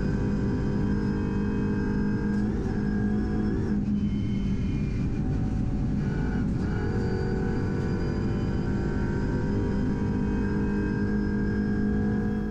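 Audi RS3 LMS touring race car run flat out on the long back straight of the Nürburgring Nordschleife in damp conditions, its engine a steady, loud, droning roar heard from onboard with no breaks or shifts across the stretch.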